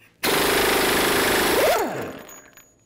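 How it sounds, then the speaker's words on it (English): A pneumatic impact wrench with a 36mm 12-point socket hammers a front axle nut off a 2003–2010 BMW X3, one loud sustained rattling burst of about one and a half seconds that winds down as the trigger releases. "I'm going to take this axle nut off."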